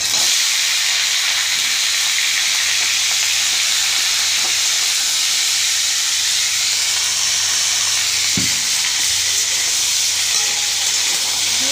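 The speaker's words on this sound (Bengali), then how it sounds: "ভালো করে ভেজে নেব।" Ripe pumpkin, beans, a small potato, sweet pumpkin and slit green chilies fry in hot oil, giving a steady, close sizzling hiss throughout with a few faint clinks and a brief knock near the end; no one speaks.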